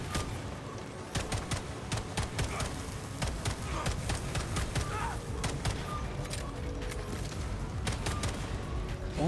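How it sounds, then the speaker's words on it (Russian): Rapid bursts of gunfire in the shooter video game Atomic Heart, dense and loud over a steady background of game noise and thuds. "Он, мне кажется, скорость выстрелов увеличил."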